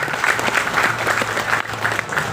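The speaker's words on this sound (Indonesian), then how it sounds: "Tepuk tangan." Crowd applause at a Golkar party campaign gathering, a dense burst of many hands clapping, close and loud, filling the whole moment without any voices.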